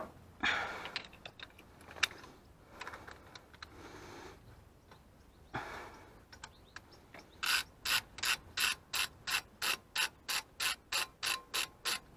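Ratchet wrench pre-tightening the front brake caliper bolts on a Renault Mégane 3, scattered handling clinks and rubs, then a run of about a dozen evenly spaced, crisp ratchet clicks close by.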